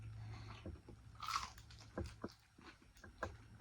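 Close, crisp bites and crunchy chewing on a breaded chicken finger at a restaurant, several distinct crunches spread unevenly across a few seconds, with no talking.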